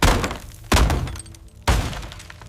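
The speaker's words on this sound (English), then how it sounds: "A loud crack echoed as the door gave way" Three heavy, sharp cracking impacts spaced about a second apart, each ringing out briefly, like a door being forced and splintering open.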